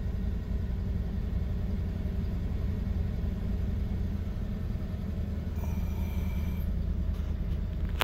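A car engine idles gently after starting, a low, even rumble with a faint rough tremble, steady and continuous with a brief high whine partway through.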